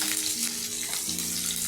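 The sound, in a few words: chopped onion frying in hot mustard oil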